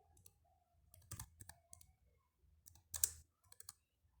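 Keystrokes on a computer keyboard as a command is entered at a Windows command prompt, heard as sparse, quiet clicks in small bursts with short pauses between them, close and alone.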